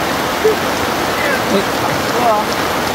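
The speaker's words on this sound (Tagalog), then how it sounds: "lakas na ng ulan" Dense, steady rain pouring down, a loud continuous wash of water with faint voices briefly audible beneath it.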